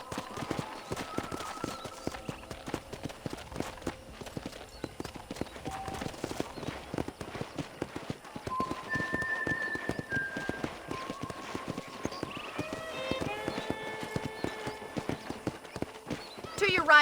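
Horse hooves clip-clop at a brisk, running pace on a ranch in Red Dead Redemption, with occasional whinnies, tonal in-game music and voices talking over the steady hoofbeats.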